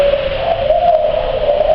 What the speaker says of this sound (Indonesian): suara Derkuku yang ada di dalam kamar